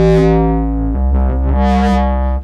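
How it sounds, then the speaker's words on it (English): A Dreadbox Typhon synthesizer plays a loud, buzzy distorted tone with a gritty harmonic texture, shifting pitch and a sweeping filter, cutting off abruptly at the end. "Let's get a bit of distortion on this."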